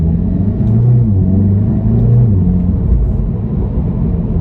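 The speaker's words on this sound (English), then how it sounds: "There's definitely a little bit more drone on these exhausts from standard." Seat Cupra 290 with a resonator-delete exhaust and GPF filter, in sport mode and first gear, pulls away with a loud, deep droning rumble that holds steady throughout, with a slight rise in pitch as it accelerates.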